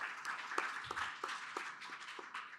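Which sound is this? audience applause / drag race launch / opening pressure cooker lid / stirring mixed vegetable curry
audience applause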